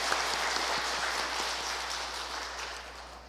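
A short burst of steady clapping from a small church group at a Legio Mariae meeting, moderately distant, with no talking.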